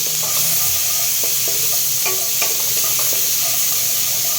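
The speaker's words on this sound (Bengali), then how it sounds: "পেঁয়াজটা ভাজা হয়ে গেছে" Onions frying in a pan for a bata fish curry, a loud dense sizzle with a steady hiss and scattered spatula taps as the pan is stirred.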